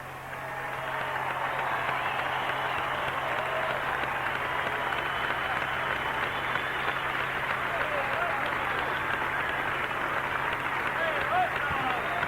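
Sustained applause and cheering from a large stadium crowd at Tiger Stadium honoring broadcaster Ernie Harwell, a steady wash of clapping that swells in and holds without letup.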